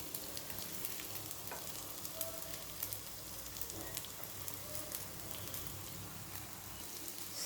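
Sabudana vadas fry in ghee in a pan with a steady, soft, dense sizzle that holds an even level throughout and has faint crackles scattered over it. No one speaks.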